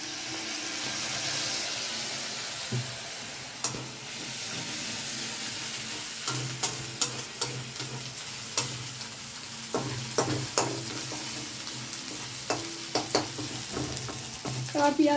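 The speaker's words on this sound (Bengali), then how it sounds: "পেঁয়াজটা একটু লাল লাল হবে, তারপরে মশলাগুলো দেবো।" Onions fry and sizzle in a pan while being stirred, a continuous soft hiss broken by irregular scraping clicks and knocks of the spoon against the pan, growing busier toward the end.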